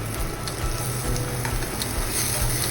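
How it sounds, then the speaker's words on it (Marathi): Onion, garlic and chili sauté in a hot pan over a medium-high flame for a dal tadka, a dense close sizzle broken by scraping stirs and light clinks, with no voices. "कांदा, लसूण आणि मिरची या सगळ्यांना छान परतून घ्यायचं आहे."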